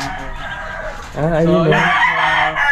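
Caged laying hens cluck and warble loudly up close, with a drawn-out rooster-like call rising over the flock while a person speaks briefly.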